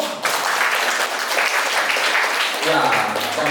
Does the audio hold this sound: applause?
yes